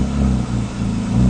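A 1988 BMW E30 325 with a swapped S52 engine and UUC Motorwerks exhaust idles and revs with a deep, throbbing drone, loud and close, dipping briefly midway before rising again.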